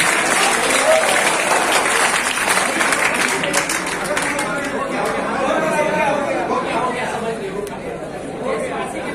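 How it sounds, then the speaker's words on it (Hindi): Seminar audience in Muzaffarpur claps loudly and continuously while people chatter over it, the applause slowly thinning toward the end. "जोरदार ताली सर के लिए बजा दीजिए।"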